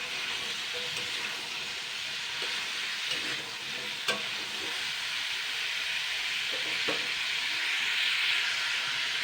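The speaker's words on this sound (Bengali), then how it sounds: "এইগুলোকে আমি আবারও দুই তিন মিনিট ফ্রাই করে নেবো" Chunks of pumpkin and papaya fry in a pan, giving a steady, dense sizzle and hiss throughout, with occasional soft scrapes and taps from stirring; no voices.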